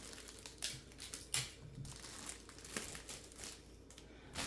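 Tape being handled while sealing a gift basket shut, a series of soft crinkling and tearing rustles with a few sharper pulls, close and quiet.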